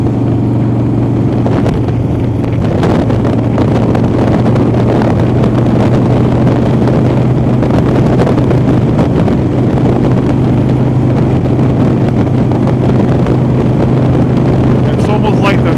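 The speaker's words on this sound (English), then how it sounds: "It's almost like the windshield is making the wind hit my helmet." Wind buffeting a motorcycle rider's helmet behind a windshield, a loud constant roaring rush with low engine drone underneath, while the rider talks over it.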